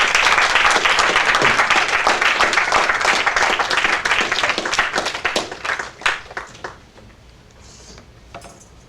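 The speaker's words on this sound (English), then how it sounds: "And a big applause to all who are there." An audience at a public presentation on a city decongestion plan applauds, a dense burst of clapping that holds steady, then thins into scattered individual claps and fades out.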